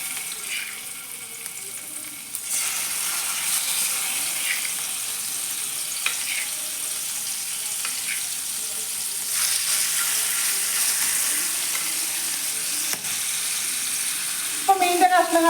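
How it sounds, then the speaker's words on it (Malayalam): Spice-marinated sardine pieces drop one by one into hot oil, setting off a steady, close sizzle that jumps louder as they go in, with faint clinks and a brief scrape near the end. "അതിലേക്ക് നമ്മൾക്ക് അരപ്പ് പിടിപ്പിച്ച് വെച്ച മീനിൻ്റെ കഷ്ണങ്ങൾ ഓരോന്നായിട്ട് ഇട്ട് കൊടുക്കാം."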